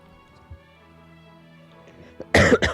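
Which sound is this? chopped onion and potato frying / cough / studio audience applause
cough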